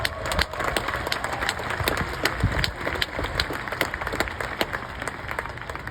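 Audience applause at a Hall of Fame induction ceremony, a sustained burst of many hands clapping in a large crowd, loud and continuous with sharp individual claps.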